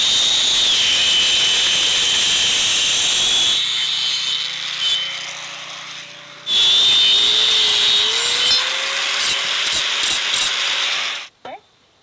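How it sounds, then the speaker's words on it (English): A small angle grinder spins up partway in with a thin rising whine, cuts in a loud harsh burst, then winds on with hissy grinding before stopping abruptly; steady outdoor noise underlies the opening seconds. "So we're gonna use the little angle grinder."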